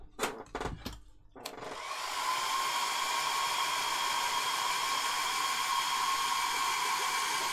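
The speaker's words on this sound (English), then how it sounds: "Quick blast to the hairdryer." A hair dryer blows steadily at close range to dry yellow paint on a Warhammer miniature, starting after a few short knocks and holding a constant airy roar to the end.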